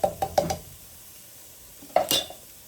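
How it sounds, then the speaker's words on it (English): Onions, vegetable broth, salt and diced tomatoes stirred in a pan, giving a few close scraping, clinking utensil strokes in two short bursts with a soft sizzle beneath and a quiet pause between. "And give that a stir."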